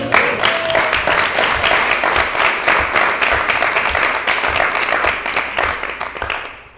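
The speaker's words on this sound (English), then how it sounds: "Can we give a round of applause, please?" A dinner-event audience gives a round of applause, dense sustained clapping filling the room at full volume for several seconds before tapering off at the end.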